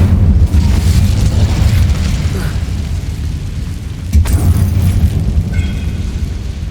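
Fire spell Incendio cast in the Hogwarts Legacy video game inside a closed-off mine: a loud, sustained roaring rumble with a burst near the start and another surge around four seconds, heard alone.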